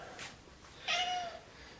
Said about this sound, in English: And that is my 19-pound Tomcat Ludwig you hear meowing.